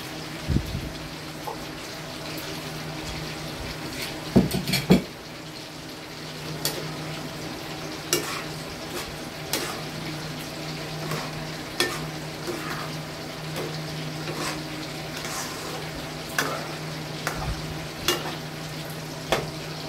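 Spaghetti sauce with hotdog frying and being stirred in a pan, a steady low sizzle with a soft hum beneath and periodic light scrapes and taps of a utensil against the pan, close and without talk.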